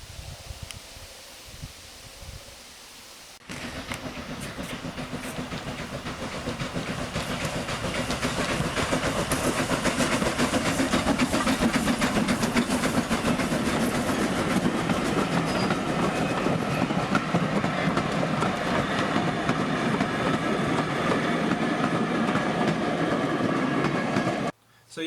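A train pulled by an Austerity tank steam locomotive rumbles past, swelling to a loud steady roar with rhythmic clatter, which cuts off abruptly at the end.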